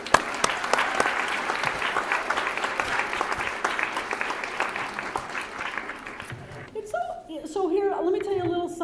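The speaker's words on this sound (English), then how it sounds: "Give yourselves a round of applause." Applause from the audience at a Phi Theta Kappa honor society induction ceremony at Quinsigamond Community College, a dense steady wash for about six seconds that fades out, followed by a voice speaking.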